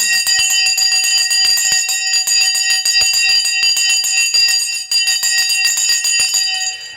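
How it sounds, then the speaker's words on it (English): A stock market opening bell rings loud and continuous for about seven seconds, a bright metallic clanging with steady rapid strikes and no voices over it. "There goes the bell."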